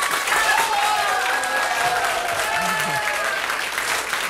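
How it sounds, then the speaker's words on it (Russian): Studio audience in the hall of the «Красное и черное» club applauding steadily at the start of a TV comedy program's take, a dense, sustained wash of many hands with crowd noise and faint voices underneath. "Аплодисменты!"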